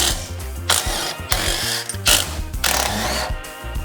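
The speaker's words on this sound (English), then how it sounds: "now we're going to go ahead and remove these 9/16 inch bolts just using an impact driver." Impact driver backing out 9/16 inch bolts while installing a power tongue jack on an RV, giving several rapid hammering bursts separated by short pauses, close and fairly loud.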